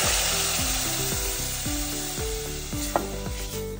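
Ground chilli masala fries in a pan with fenugreek seeds for a Goan mackerel curry, giving a steady sizzle broken by repeated scraping strokes of a stirring spoon, close and alone.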